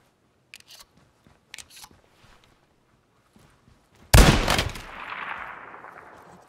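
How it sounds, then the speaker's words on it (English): Gunfire in the tactical shooter Ground Branch at a compound, a few faint distant shots early, then one loud close gunshot cracking sharply and echoing away over a couple of seconds. "They're shooting at me!"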